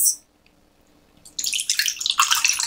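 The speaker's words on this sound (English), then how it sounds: "Pour it into our little spooky glass." Mocktail is poured from a shaker into a small spooky glass. A faint drip comes first, then a loud, splashy pour that runs for the last second or so, with no voices.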